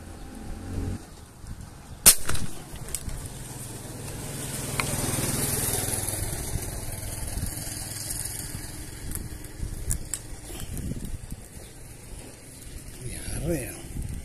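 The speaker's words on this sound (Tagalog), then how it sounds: "Pangalawang putok po natin." A spearfishing gun fires once with a single sharp, loud crack near the start, followed by ongoing wet rumbling and scattered faint clicks and knocks.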